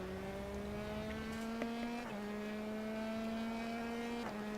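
A Formula 3 car accelerating out of a late-apex corner at Donington Park, its engine note climbing steadily through the gears with two quick upshift drops, heard from onboard over a faint constant background.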